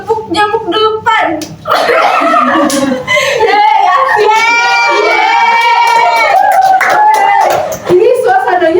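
Children in a classroom play a mosquito-clap game, their quick, uneven hand claps and slaps nearly buried under loud, continuous excited voices and chatter.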